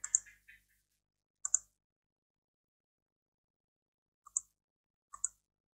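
Computer keyboard keys click crisply while commands are typed to change directories to an SD card, four short separated bursts of one or two taps each, close and quiet against silence.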